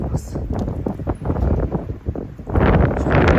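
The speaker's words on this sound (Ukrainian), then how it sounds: "Холодно, вітер." Cold, gusty wind roars across the microphone among garden plants, with low, indistinct voices underneath; the rumble swells louder toward the end.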